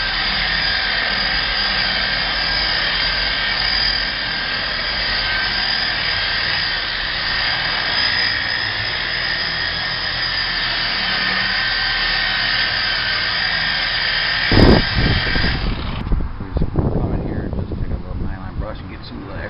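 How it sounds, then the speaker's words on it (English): An orbital polisher applies wax to a 2007 Ford Taurus with a steady, loud droning whir that stops near the end, followed by rustling handling noises, and a voice speaks at times. "So we'll put it on with the machine. It just does a lot better job because it's still orbital."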